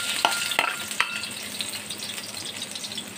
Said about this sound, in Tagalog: Nagpapainit na ako ng kawali. Siyempre, unahin natin ang bawang.